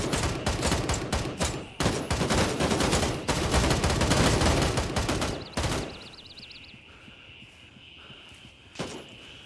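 Rapid bursts of automatic gunfire in the tactical shooter video game Gray Zone Warfare, loud and dense for several seconds, then a sparser tail with a few isolated shots.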